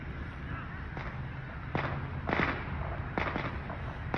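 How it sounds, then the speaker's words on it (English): Firecrackers set off outdoors in Buffalo, New York, during a total solar eclipse crack faintly in the distance: several scattered, sharp pops spaced irregularly over steady background noise. "Okay, those are firecrackers."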